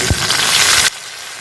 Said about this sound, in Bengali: একে একে দিয়ে দেবো সব ভেজে রাখা আলু, ভেজে রাখা ফুলকপি।